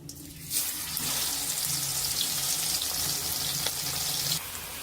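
Raw chicken pieces dropped into a pan of frying cumin seeds for a village-style, lightly spiced chicken dish, raising a loud, steady, close sizzle that holds for about four seconds and then eases.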